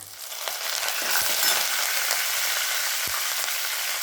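Curry leaves sizzle in hot oil in a pan while tomato chutney is being made, a steady bright crackle with a couple of faint taps from stirring.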